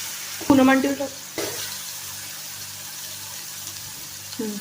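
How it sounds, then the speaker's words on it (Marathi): Garlic chutney frying in oil with sautéed onion and tomato for an aloo curry, a low steady sizzle after a brief splashy clatter of the chutney going in, with a few stirring scrapes and no talk. "त्यात आपण टाकू लसणाची चटणी. ते पण व्यवस्थित आपण छान परतून घेऊ."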